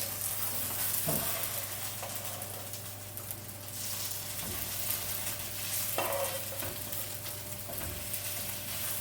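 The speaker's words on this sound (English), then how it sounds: "Whoa, sizzle!" Potatoes sizzle steadily in hot frying oil, with occasional scraping and stirring clicks over the constant hiss.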